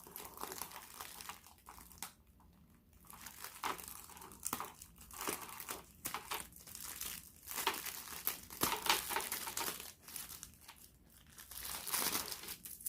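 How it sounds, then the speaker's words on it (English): Plastic packaging for diamond painting kits crinkles and crackles up close as it is cut open and pulled apart, irregular rustling bursts with brief quiet gaps and no speech. "So we're going to cut this open so that we're not breaking a nail."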